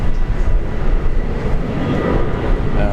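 Virgin flight 938 departing Brisbane airport for Sydney, a continuous rumbling jet roar heard from a distance, dense and low with a steady level and no talk.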